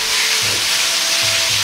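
Meat and vegetables stir-frying in oyster sauce over high heat, a loud continuous sizzle and hiss with steady stirring, heard alone without talk.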